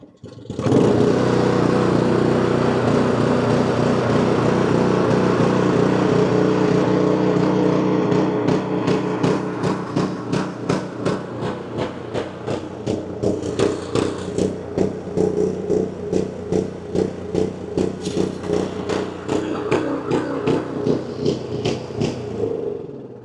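A Honda HS 520 snowblower engine starting and settling into a loud, close, steady single-cylinder putter, its beat growing more distinct and chattery as it runs.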